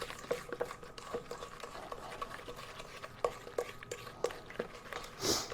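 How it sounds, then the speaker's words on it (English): Mustard being stirred into a meatloaf mixture in a bowl, soft repeated scraping and squelching strokes at a steady rhythm, close and fairly quiet, with a few light utensil taps. "now we've got to stir this"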